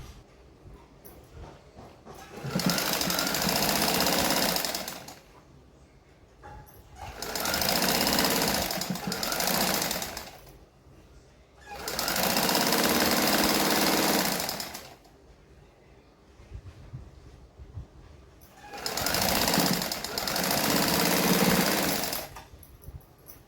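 Electric sewing machine stitching the fitting seams of a 40-inch katori blouse, running in four sustained bursts of several seconds each with short pauses between, steady and fairly close.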